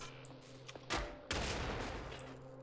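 A sudden loud blast followed by a rumbling, crackling roar that lingers, preceded by faint low background noise.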